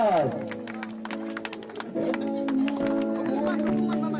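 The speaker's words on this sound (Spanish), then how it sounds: "Fuerte los aplausos." Rhythmic clapping from a gathered crowd at a 60th birthday celebration, steady and fairly close, mixed with sustained tonal music and voices throughout.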